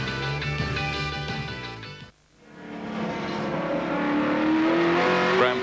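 A Holden Commodore touring car races at Calder Park in the 1986 Australian Touring Car Championship, its engine revving loudly with shifting pitch. The sound drops out sharply for a moment, then climbs back as a rising, nearby engine note.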